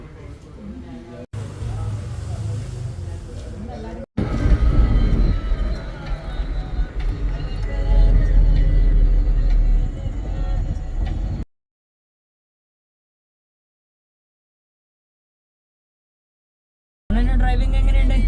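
Steady low rumble of a car engine and road noise on a cousins' road trip to Manjapull, Paithalmala, loud and continuous with people talking inside, then cutting to silence before resuming.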